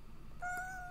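A cat gives a single clear, fairly faint meow, a short rising call over a quiet background.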